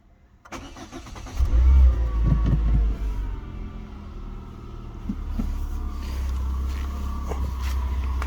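A 2013 Peugeot 207+ 1.4 petrol engine cranks and starts with a brief rev, then settles into a steady idle, heard up close with no voices.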